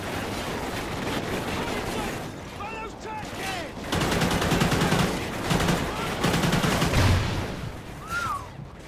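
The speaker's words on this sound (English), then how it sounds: "Someone's shooting an RPG at me" Gunfire bursts and explosive blasts from an RPG in the video game Call of Duty: Ghosts, with a loud sustained barrage of shots in the second half and faint voices in between.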